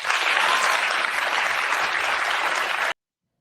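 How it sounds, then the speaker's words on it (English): Steady, dense applause from a crowd, loud and even throughout before cutting off abruptly into silence. "And everyone claps for that."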